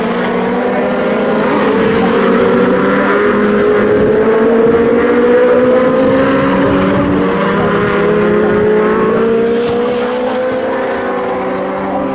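Legends race cars driving down the Bentley Straight at Snetterton during a championship heat, a loud continuous engine roar with rising and falling pitch as several cars pass close together.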